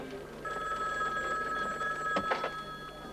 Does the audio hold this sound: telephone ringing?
yes